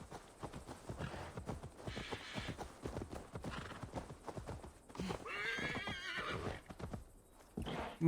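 A horse in the video game Assassin's Creed Valhalla whinnies loudly over the steady clip-clop of its hooves, with a few shorter snorts and neighs around it.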